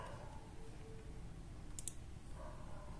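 A couple of quick computer mouse clicks come in a tight pair midway while printer date settings are changed on an Epson EcoTank L495 or L395, faint over a quiet room hum, with no talking.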